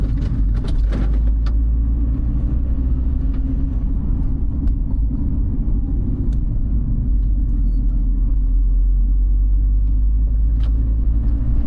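A car drives along a good highway in Kazakhstan, its engine and tyre rumble heavy and continuous from inside the cabin, with no talk.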